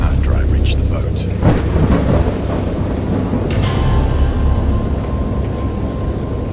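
A thunderstorm with heavy rain and rumbling thunder, a loud steady downpour with deep rolling booms in the first seconds.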